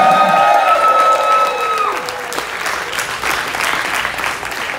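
Live hip-hop concert crowd on the G.O.M. Tour 2019 applauding and cheering loudly, with sustained clapping and whistles or shouts ringing out early before settling into steady, dense applause throughout.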